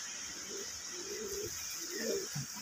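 Pet pigeons kept by a breeder coo softly in low, rounded phrases, moderately close, over a steady high insect-like hiss in the background.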